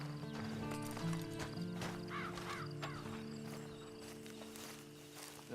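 A horse walks with a steady clip-clop of hooves in the Red Dead Online video game, the hoofbeats moderately close over sustained background music, with occasional bird calls in the distance.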